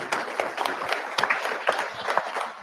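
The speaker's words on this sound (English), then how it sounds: "Let's give him a round of applause." A small group at a racing drivers' meeting claps enthusiastically, a close patter of hands with individual claps standing out, lasting a few seconds.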